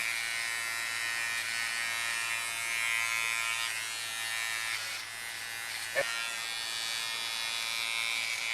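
Electric hair clippers buzz steadily and close during a haircut, a continuous motor drone with one brief click partway through and no talk over it.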